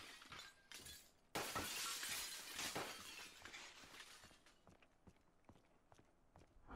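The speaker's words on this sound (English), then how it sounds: "Who's breaking all the glass?" Glass shattering in Call of Duty Black Ops 3 Search and Destroy, a sharp crash followed by a long spill of tinkling shards, then scattered footsteps and small clinks at moderate distance.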